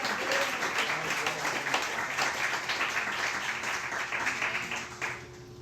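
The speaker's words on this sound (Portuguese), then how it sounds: "Você que crê, aplauda o Senhor com o seu melhor." Church congregation applauding during a service, a dense steady wash of clapping hands that fills the space evenly and fades slightly near the end.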